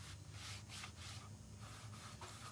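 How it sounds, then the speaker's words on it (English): Lint-free rag rubbing chalkboard paint into a wooden board, a soft, steady scrubbing with repeated back-and-forth strokes, faint and close, with no talking. "is you're just going to rub it in with a lint-free rag."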